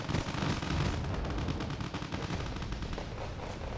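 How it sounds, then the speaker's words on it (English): Infantry gunfire from the video game Wargame Red Dragon: dense overlapping rifle and machine-gun bursts crackle back and forth at steady loudness, with no voices. "Yeah, they're just shooting back and forth, taking fire."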